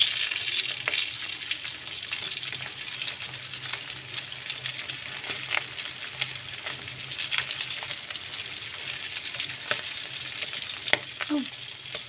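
Tinapa, smoked fish, fries in a pan with a steady close crackling sizzle and scattered sharp pops throughout, alone without talk.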